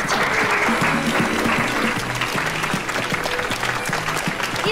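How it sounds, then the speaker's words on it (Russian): Sustained applause from a crowd, dense clapping filling the room at a steady loud level, with a faint voice or music underneath. "аплодисменты"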